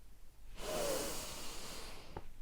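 One heavy, rushing breath is drawn close to the microphone and lasts over a second, followed by a brief sharper catch; no one speaks.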